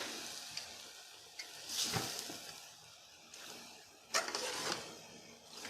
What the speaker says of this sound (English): while waiting for the plantains to fry